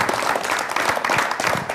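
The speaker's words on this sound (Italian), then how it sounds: "un applauso per la sintesi" Studio audience applause on an Italian regional TV show, a dense steady wash of clapping from a crowd, moderately loud and even throughout.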